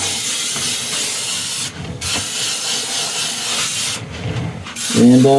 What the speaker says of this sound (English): I'll just spray a little more metallic on the bottom of the feet